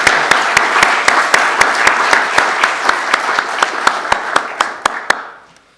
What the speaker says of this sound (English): So a big round of applause for Charles